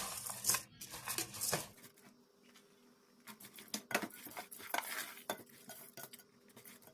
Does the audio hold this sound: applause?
no